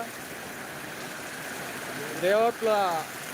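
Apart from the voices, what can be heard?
heavy rain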